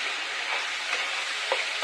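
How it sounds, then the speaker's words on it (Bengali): Onions and tomatoes frying together in a pan make a dense, even sizzle close by, with faint stirring scrapes; no one speaks. "আমি আবারও টমেটোগুলোকে দেওয়ার পর আবারও আমি 2 থেকে 3 মিনিটের মতো ভেজে নিব।"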